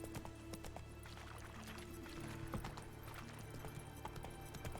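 Roach the horse running in The Witcher 3, a quiet rhythmic clip-clop of hooves under faint ambient city noise and a low hum, steady throughout.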